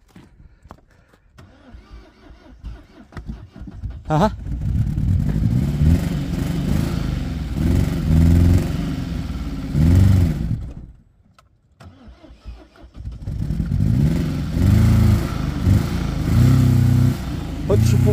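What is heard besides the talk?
engine starting and revving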